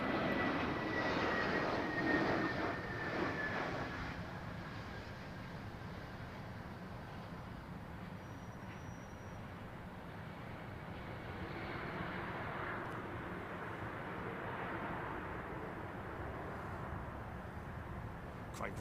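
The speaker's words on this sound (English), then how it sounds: "we got Qatar 777 from Doha" A Qatar Airways Boeing 777 arriving from Doha at London Heathrow roars loudly overhead at first. The noise fades to a low, distant rumble, then swells again slightly.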